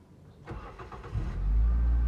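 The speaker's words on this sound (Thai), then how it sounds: "สตาร์ทพาฟังเสียงเครื่องยนต์กัน" A 2005 Toyota Vios engine with a five-speed manual gearbox cranks briefly, then catches and settles into a loud, steady low idle close by.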